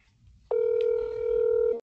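A telephone tone sounds in a classroom, one steady electronic tone lasting just over a second, loud and close, over faint room noise.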